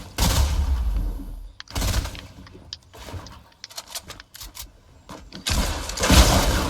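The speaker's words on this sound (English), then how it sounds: "Ah, rocket launchers." Explosive blasts and rapid gunfire bursts during a Fortnite build fight with rocket launchers, loud booms at the start, middle and end with scattered sharp shots and crackles between them.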